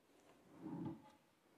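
A cabinet drawer in an elegant house in Sun Valley Estates, Antipolo, slides open or shut with a single soft, muffled rumble that swells and fades over about half a second in a quiet room.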